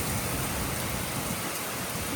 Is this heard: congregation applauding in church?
no